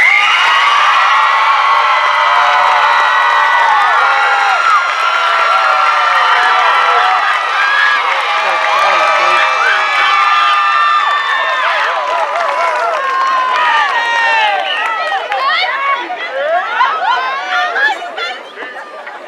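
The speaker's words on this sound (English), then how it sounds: "Please give these students a round of applause." Large graduation audience at a high school ceremony cheering and chattering loudly, a dense, sustained crowd roar with excited shouts that fades slightly near the end.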